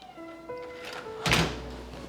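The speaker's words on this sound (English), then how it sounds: "our cat wanted to go to the garage, and now she wants in." A house cat meows a few times from the garage wanting back in, followed by a sharp thunk like a door being opened, heard indoors at moderate distance.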